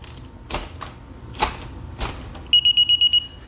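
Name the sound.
DSC alarm keypad chime beeps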